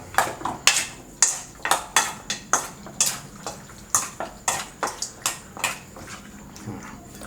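Chicken wings tossed with seasoning powder in a bowl, giving a steady run of sharp, close clacks and scrapes at a regular rhythm, with no talking.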